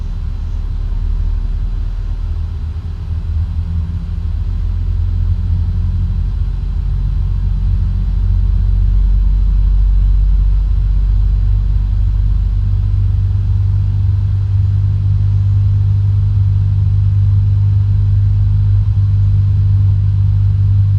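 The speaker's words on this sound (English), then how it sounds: "Let's go ahead and start engines." Boeing 777-300ER jet engines spool up in a PMDG flight simulator, a steady loud low rumble that slowly builds and holds with no talk.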